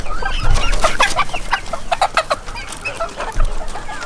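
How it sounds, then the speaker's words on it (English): A rooster clucks close by in a series of short bursts, with quieter pauses between the groups of clucks and low thumps underneath. "Such a nice rooster"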